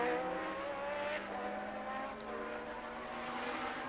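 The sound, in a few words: Formula One race car engine running rough, 1982 British Grand Prix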